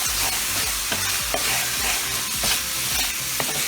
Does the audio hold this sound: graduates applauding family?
no